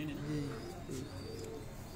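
Pigeons on a rooftop loft coo in low, rolling, repeated calls close by, partly under a voice.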